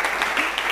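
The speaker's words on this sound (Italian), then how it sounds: "Quindi direi di fare un applauso preventivo a Carla Pinna" A brief burst of loud, close applause, many hands clapping densely.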